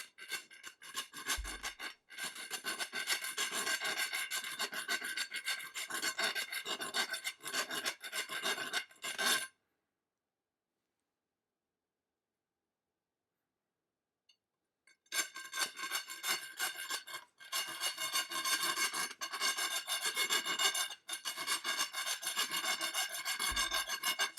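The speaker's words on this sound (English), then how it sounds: "I'll start off with the round file. I've got a piece of conduit here" A round file rasps across the sharp burr on a cut end of metal conduit in long, steady strokes, close and loud, stopping for about five seconds before the rasping resumes.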